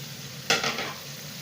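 Finely chopped carrots go into hot oil in a pan for macaroni. There is a brief burst of sizzling and stirring over a steady frying hiss, close and clear.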